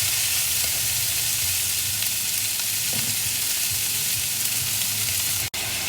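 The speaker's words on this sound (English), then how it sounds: "let's saute this so the onions turn soft" Onions sauté in a pan for chicken chukka, producing an even, continuous close sizzle at moderate loudness with faint stirring knocks underneath and a single sharp click near the end.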